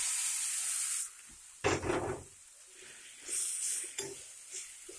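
Grated raw mango tipped into a hot pan with oil and asafoetida gives a short burst of sizzling and stirring, then settles to a softer crackle with brief clatters.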